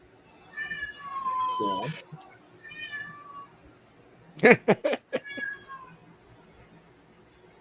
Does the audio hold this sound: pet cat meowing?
yes